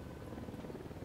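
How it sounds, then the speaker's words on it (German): Helicopter flying overhead in the video game Ghost Recon Wildlands, a steady low rotor thump and engine drone that holds at a constant level through the short stretch, with no voices. "Pass auf. Über dir ein Hubschrauber."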